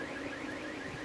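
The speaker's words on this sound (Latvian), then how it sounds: "Automašīnām signalizācijas." A car alarm wails faintly in the distance during a heavy thunderstorm in Jelgava, Latvia, its rising and falling siren tone carrying steadily through the damp air.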